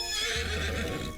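A horse belonging to Colonel Sanders whinnies in a dating simulator game, a single clear, loud neigh with a wavering pitch that rises and then trails off over about a second, heard on its own.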